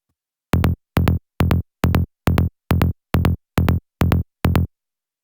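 Psytrance bass synth patch in Serum with its first oscillator muted, playing ten evenly spaced short plucky notes in a steady rhythm, each cut off cleanly with silence between, alone and dry.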